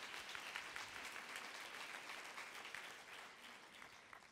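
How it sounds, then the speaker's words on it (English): Faint, steady applause from a small audience continues throughout, a dense patter of clapping heard from a distance. "Give a round of applause, please."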